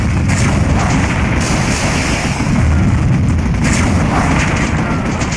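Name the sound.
heavy cannon firing in Warzone 2100 video game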